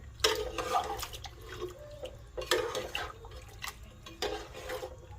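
Water being poured and stirred into a spicy stingray fish curry in a pot: three separate splashing pours with gurgling and light clatter between them, close by and fairly faint.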